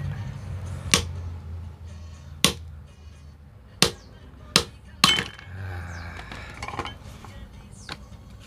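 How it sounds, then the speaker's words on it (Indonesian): A hammer strikes something solid five times in an irregular rhythm, each blow a sharp, loud, close crack, followed by a few fainter knocks against a low background hum. "Tinggal pukul saja ini yang menggunakan palu ini ya Dudul"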